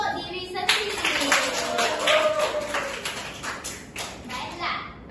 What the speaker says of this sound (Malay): Sila bagi tepukan untuk diri sendiri